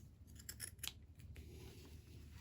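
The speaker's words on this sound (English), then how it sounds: "I'm just going to trim around the excess" Scissors trimming excess stabilizer and fabric from a machine embroidery piece, a few quick, quiet snips close by, followed by faint background hum.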